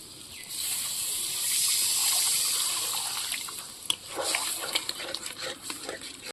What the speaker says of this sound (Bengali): এবার আমি পরিমাণ মতো একটু জল দিয়ে দেব